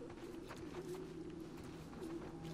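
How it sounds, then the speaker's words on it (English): Low, steady dove cooing repeats through a short stretch of The Last of Us Part II ambience, with faint chirps and soft rustling in the background. "I hear a lot of birds."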